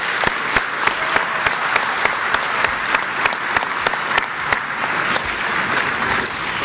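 Sustained audience applause at a college student-athlete awards ceremony, dense steady clapping with sharp individual claps standing out, continuous throughout.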